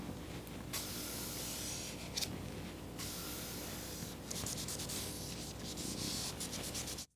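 Hand sanding a Damascus steel chef's knife blade with 2,500 grit sandpaper to remove oxide: a steady dry rasp broken by bursts of brisk back-and-forth scratching strokes, close and fairly quiet.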